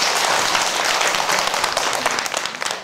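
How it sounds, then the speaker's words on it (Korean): Audience at a temple stay lecture giving a round of applause, sustained dense clapping that thins out toward the end, no voices. "박수 한번 주시기 바랍니다."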